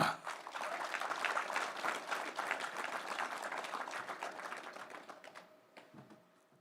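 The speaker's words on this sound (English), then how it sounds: "Please give a round of applause and welcome the mighty White Orc, Mr. Paull Linn." Audience applause welcomes a fighter at a King of the Table press conference, a dense crackle of many hands clapping that gradually thins and fades toward the end.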